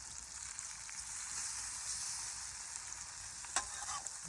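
Spam and tomatoes frying in a cold handle skillet outdoors, a steady soft hiss of sizzling fat with one brief sharp pop near the end.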